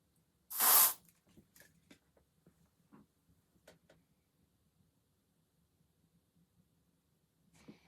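A can of Nivea Cool Kick deodorant gives one short, loud hissing spray burst lasting under half a second, followed by faint scattered handling clicks and taps in a quiet room.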